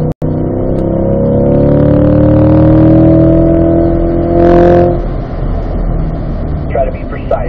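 A Corvette C8 on a race track during a driving school cool-down lap drones with a sustained engine note that rises in pitch, then settles into rougher road and wind noise, with speech partly over it.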